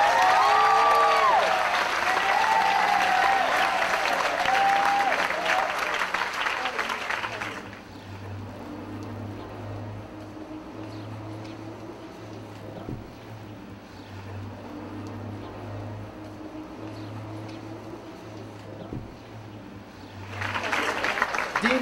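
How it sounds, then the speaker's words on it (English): Applause for graduates at a university commencement ceremony, a loud, dense crowd clapping for about seven seconds before cutting to quiet room tone with a low hum, then swelling again briefly at the end. "Let's give a round of applause to the ICANN graduates."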